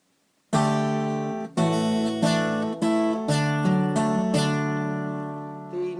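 A guitar plays a phrase of the folk tune Molly Malone, with a melody on the second string pinched against a bass C; bright plucked chords ring out one after another, close and alone.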